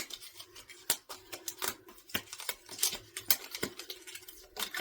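Playing cards being shuffled and mixed by hand, heard as quick irregular papery riffles, taps and slaps up close, with no voices.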